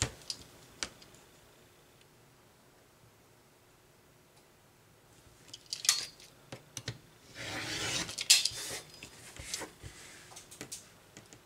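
Scissors snip through fabric in a few quiet, crisp cuts along a line of stitching while a cross-stitch pillow with ric rac trim is being finished, the clicks sparse at first and bunched near the end.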